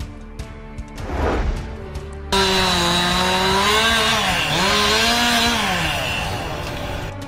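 A chainsaw cuts trees damaged by Santa Ana wind gusts in Southern California, a loud close motor whine rising and dipping in pitch as it bites into the wood after a brief quieter start.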